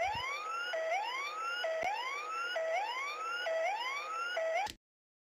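Warning alarm in the X-Plane 11 Nimbus Huey UH-1 helicopter simulation: a repeating rising electronic whoop, about six cycles in steady rhythm, loud and continuous before stopping abruptly.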